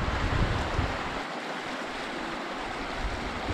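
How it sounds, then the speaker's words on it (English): Lussier River flowing near the hot springs in Whiteswan Provincial Park, British Columbia, a broad steady rushing of water mixed with some wind buffeting, constant and fairly close. "Here we are along the river, the Lussier River."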